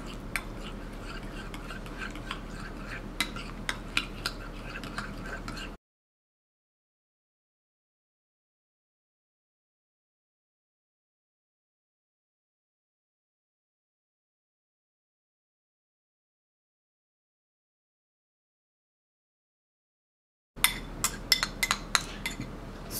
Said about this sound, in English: Just give this a stir to make sure that everything is well blended together.